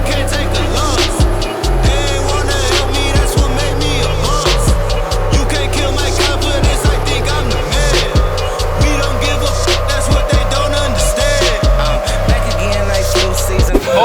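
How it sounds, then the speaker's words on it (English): A tuned car engine runs hard through a dyno pull, making a loud, continuous roar with whining, shifting tones that hold steady for the full stretch. "let Matt have a bit of a play with the ECU, get the thing tuned up, do a couple of pulls"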